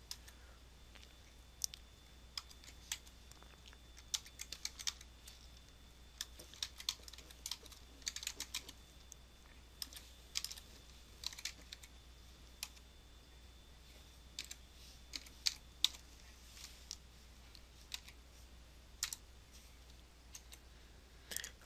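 Typing variables into code on a computer keyboard, with steady quiet key clicks in uneven bursts and short pauses, close and alone for about twenty seconds.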